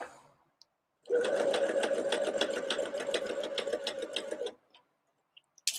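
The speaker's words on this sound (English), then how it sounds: "I sew with so many different machines." One close, continuous burst of a sewing machine stitching a dart on a Tabula Rasa jacket, lasting a few seconds with a fast rhythmic needle chatter, then stopping.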